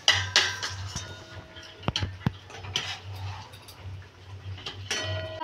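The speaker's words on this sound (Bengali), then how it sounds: "এই যে বিরিয়ানিটা এবার দম দেওয়ার পর এবার ওটাকে" Biryani being stirred and tossed in a pot after dum cooking, with close, irregular metal clinks and scrapes of a spoon against the vessel under a low steady hum, no talking.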